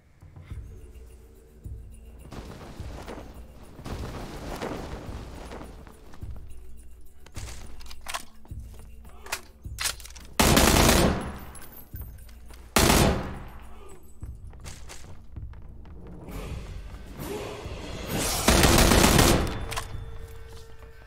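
Gunfire in the battle-royale video game PUBG: scattered single shots and short bursts build to several loud, dense volleys of automatic fire, with quieter footsteps and movement between them.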